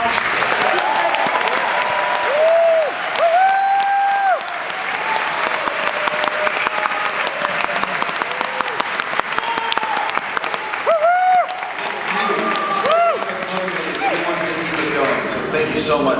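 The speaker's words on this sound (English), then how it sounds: "how about a big round of applause?" An audience applauds at a Power Rangers Dino Charge panel, with loud sustained clapping from a convention crowd, scattered cheers and whistles, and voices talking over the applause throughout.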